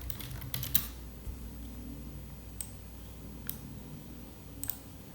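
Quiet computer-keyboard typing while making a YouTube thumbnail in Canva, a few soft scattered keystrokes and clicks spaced over several seconds against faint room noise.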